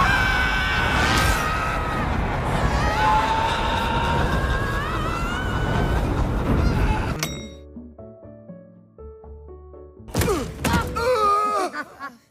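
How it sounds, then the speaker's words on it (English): Cartoon characters scream in a Halloween cartoon as a magic elevator sucks them in: loud wavering shrieks over noisy music, a brief drop to quieter tones, then another burst of screams. "Get ready for even more screaming."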